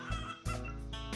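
In the farming game Farming and Friends, chickens give a few short clucks, close and moderately loud, set over a steady background of game ambience.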